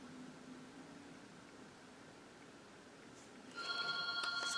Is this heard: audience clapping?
no